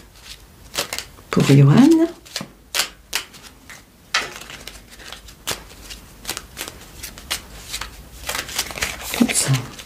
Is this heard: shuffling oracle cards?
yes